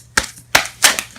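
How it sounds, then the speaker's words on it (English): Tarot cards spill out mid-shuffle in three quick, sharp, close papery slaps and flutters, each burst fading before the next. "Let's try that again without the cards exploding."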